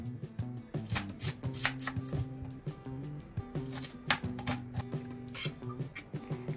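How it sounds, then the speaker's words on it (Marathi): Two large onions being finely chopped with a knife on a board, a rapid, steady run of close, crisp blade taps with no talking. "इथे मी 2 मोठ्या साईजचे कांदे बारीक कापून घेणार आहे"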